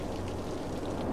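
Steady rainfall in the City Skylines city-building game, a constant even hiss of drops with no thunder and no voices.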